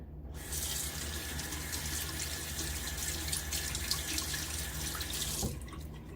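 Tap water runs steadily into a sink during a wet shave, a continuous close hiss and splash with no speech, starting abruptly and cutting off near the end.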